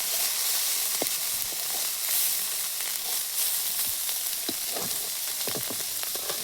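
Lightly fried food sizzles loudly and continuously in a pan after sour water is poured over it, with a dense hiss and scattered crackles and pops up close.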